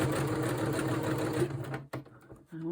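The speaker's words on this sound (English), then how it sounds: "I think I'm doing a straight stitch" A sewing machine hums steadily through a straight stitch on fabric pockets for a slow-stitched cover, then stops, and a few brief handling clicks and thumps follow.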